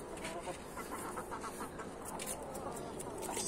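A hen clucks in a backyard chicken yard in Brazil, soft repeated clucks within a busy outdoor wash of other birds and farm ambience, with faint talk.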